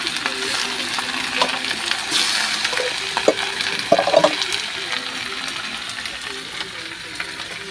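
Chicken tinola being stirred in a pan, a soft sizzle with intermittent scraping clinks and a watery slosh, close and moderately loud, with a few faint sounds from the person cooking.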